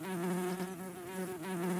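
A cartoon bee flying in the Nature Cat Pollinator Pathway video game gives a steady, close, continuous insect buzz with a slight waver and no talk over it.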